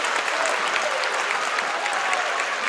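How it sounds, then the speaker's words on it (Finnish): A crowd at a summer event in Heinola gives the participants a big round of applause, a loud, even wash of clapping sustained from start to finish. "Ja sit annetaan kaikille inkkareille ihan valtavan isot aplodit."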